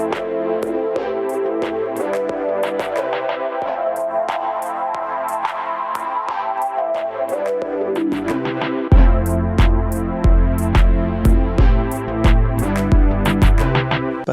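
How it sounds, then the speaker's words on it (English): A Roland SP-404 mkII loop runs through a high-pass filter and reverb, thin and washy with the low end cut for most of its length, then a full bass-heavy pulse of kicks drops back in near the end. "Or perhaps add a high-pass filter and some reverb and create something like this."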